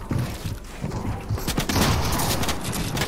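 Rapid, loud gunfire from a Fortnite box fight crackles continuously in bursts, layered shots filling the mix with no talk over it.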